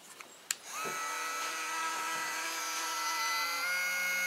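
A Ryobi power carver fitted with a V-bit starts after a couple of clicks and runs steadily, a close, continuous high-pitched motor whine with a sustained tone throughout.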